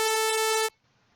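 A synthesizer sawtooth wave tone, a bright buzzy steady note held for under a second, then cutting off abruptly to near silence.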